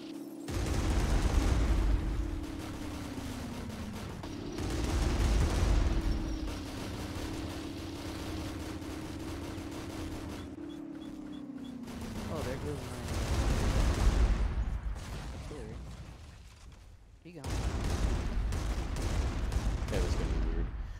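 Gunfire crackles from many directions in a video game, dense bursts of shots rolling in waves over a steady engine-like drone, loud and continuous, with a player talking over it.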